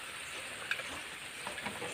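Onions and masala paste fry in a wok with a soft, steady sizzle and hiss, broken by a few faint stirring clicks.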